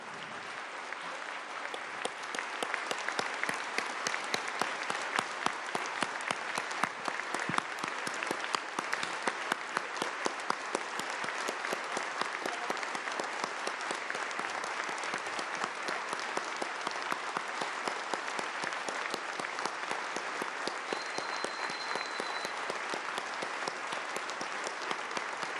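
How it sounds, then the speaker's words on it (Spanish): A large audience applauds continuously for about half a minute at the opening of a world anti-imperialist gathering in 2020, a dense, even wash of clapping hands from start to finish. "vamos a darle un minuto de aplauso"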